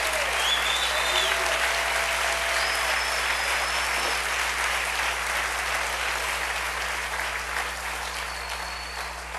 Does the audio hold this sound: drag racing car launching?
no